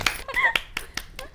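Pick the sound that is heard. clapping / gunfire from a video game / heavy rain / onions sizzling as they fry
clapping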